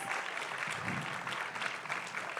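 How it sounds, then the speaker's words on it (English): Steady applause from a crowd at a film event panel, dense clapping that fills the whole stretch at a moderate distance, with no speech over it. "Let's give Pastor Mike a huge round of applause."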